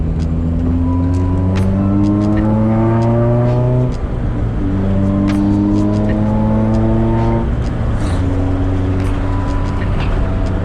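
A right-hand-drive Acura Integra with a K20 engine accelerates through the gears, the engine note climbing loudly in three steady pulls with brief dips at each shift, close and continuous.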